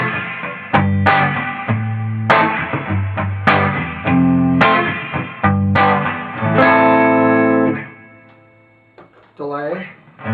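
Stratocaster electric guitar played through an Egnater amp with reverb and compression, ringing chords and picked notes in a steady rhythm with a light bite, sustaining before fading, then a short final phrase.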